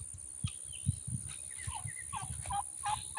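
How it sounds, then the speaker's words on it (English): A flock of turkeys gobbles and clucks in repeated bursts on a backyard garden farm, fairly near, with a steady high hum in the background and no talking. "Listen to the turkeys communicate."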